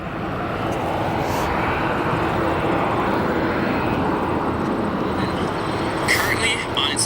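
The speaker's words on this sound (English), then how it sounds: "that MD-11 currently on its way into O'Hare, just about a minute out" An MD-11 airliner about a minute out on approach into O'Hare at sunset, a loud steady jet engine roar filling the whole stretch, with a few faint higher clatters near the end.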